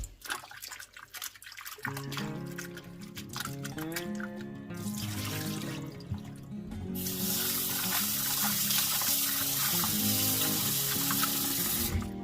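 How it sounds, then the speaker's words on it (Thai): Tap water runs into a sink while razor clams are rinsed clean by hand, with splashing and clinking at first that builds into a steady, close, rushing stream. "เราก็จะล้างล้างเขานะคะ ล้างให้สะอาด"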